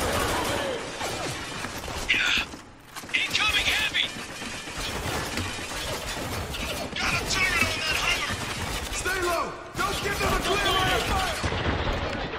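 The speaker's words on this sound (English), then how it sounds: "Under fire, taking cover!" Gunfire in the war shooter game Spec Ops: The Line, a dense continuous rattle of automatic shots and bursts mixed with game effects, with shouting voices breaking in over it.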